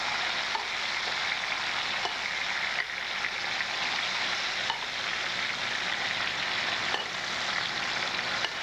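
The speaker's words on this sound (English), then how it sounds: "Ah, sizzle." Garlic frying in a pan, with steady, dense close-up sizzling that holds unbroken throughout and no talking.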